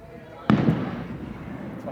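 A single 4th of July firework bursts with a sharp, sudden boom followed by a fading rumble, a second softer pop just after, while people talk nearby.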